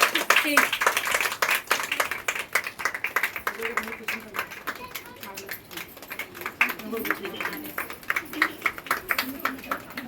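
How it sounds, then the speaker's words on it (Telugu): A group of people at a kitty party clap their hands together in a steady, dense rhythm of sharp claps. Voices talk over the clapping the whole time. "వన్స్ అందరూ కూడా క్లాప్స్ కొడుతూ ఉండండి."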